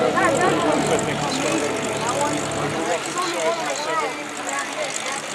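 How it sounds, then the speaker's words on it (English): A Lockheed C-5 Galaxy flies a demo at the 2015 Great New England Airshow, its loud, steady jet roar filling the air and easing slightly as it passes, with a voice talking over it. "Flying the C-5 today"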